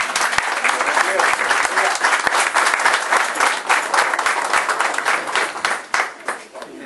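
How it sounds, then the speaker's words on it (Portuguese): Congregation applauding loudly at a church baptism celebration, dense sustained clapping from many hands filling the room, with a few voices mixed in, tapering slightly near the end. "Vamos aplaudir."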